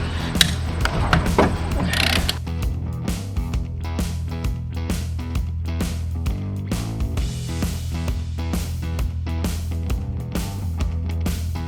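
RV wheel lug nuts being loosened with a ratcheting wrench, giving a steady run of quick clicking ratchet strokes, close and fairly quiet after an opening metallic clank.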